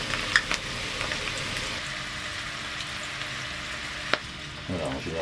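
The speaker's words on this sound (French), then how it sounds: "les racines du poireau, on va les faire frire dans une huile à 180 degrés" Leek roots deep-fry in oil at 180 degrees, giving a steady, even crackling sizzle close by, with a couple of sharp clicks and a brief stir near the end.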